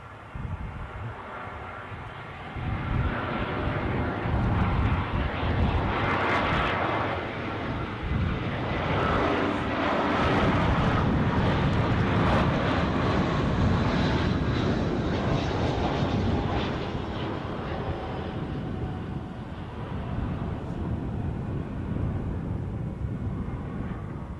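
A SmartLynx airliner at Edinburgh airport roars past, its jet engine noise swelling to a broad, loud rush, holding, then slowly easing off, heard from outdoors with no talking.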